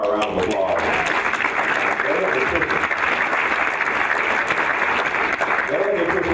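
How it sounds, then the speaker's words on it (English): An audience at a board of education meeting applauds, sustained close clapping running throughout at a steady level, with some voices mixed in. "Let's give Terry and Laura a round of applause."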